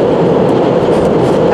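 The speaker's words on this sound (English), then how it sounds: "that's a train going over us because we're under a train line right now" A train rumbles overhead on an elevated line as the listener stands beneath it, a steady loud roar with faint clickety-clack of wheels on rails and no talk.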